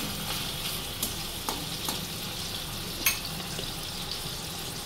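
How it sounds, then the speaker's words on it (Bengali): Prawns frying in oil in a pan over a medium flame give a steady, fairly soft sizzle, broken now and then by a few brief sharp clicks and pops from the pan. "চিংড়ি মাছগুলো বেশি ভাজবো না, অল্প একটু লাল লাল হলেই"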